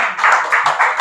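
Applause from a church congregation during a Sunday worship service, with dense clapping rising and falling in waves across a short burst.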